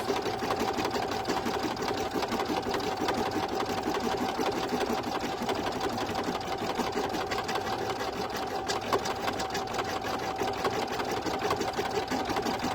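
An embroidery machine stitches an in-the-hoop bow at around 350 to 400 stitches per minute, a loud, even, rapid mechanical whir that runs without a break and with no talk over it.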